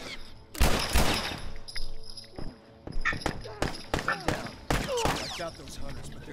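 Sharp gunshots in The Last of Us Remastered, some in fast clusters and others single and spaced apart, ringing loudly over excited voices talking throughout.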